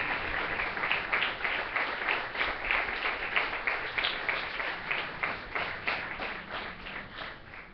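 A church congregation applauds together in a long, dense, even stretch of clapping that holds at a steady level for several seconds before easing slightly at the end.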